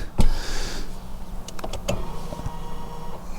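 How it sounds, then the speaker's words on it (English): A short electric motor whir from inside a VW Tiguan as the electric parking brake releases, with a few faint clicks; no voices. "Release the parking brake."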